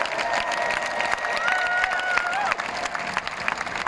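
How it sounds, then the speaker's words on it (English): Keynote crowd at VeeCon 2022 clapping and cheering, a sustained roar of applause with whoops and shouts rising over it, while a faint tonal sweep runs through the middle. "Let's clap that shit up"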